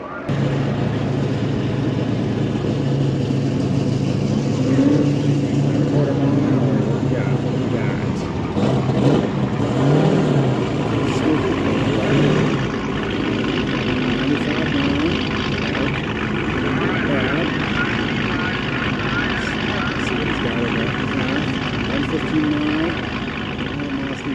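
A cheap Mazda accelerating hard on a Texas Mile top-speed run, its steady engine drone holding loud and continuous with rising tonal whine, wind roar throughout, and voices talking over it.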